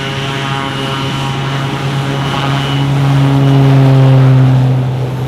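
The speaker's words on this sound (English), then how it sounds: "Let's see how Draco does on a real backcountry takeoff." A Draco bush plane on a backcountry takeoff at about 5,000 feet in hot weather, its propeller engine droning loud and steady, the pitch rising slightly as power builds.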